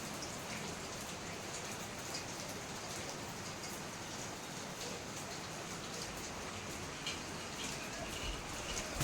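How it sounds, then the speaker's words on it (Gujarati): Steady rain falls outside, a soft, even hiss of drops that stays faint and unbroken throughout. "સુંદર મજાનો વરસાદ આવે છે"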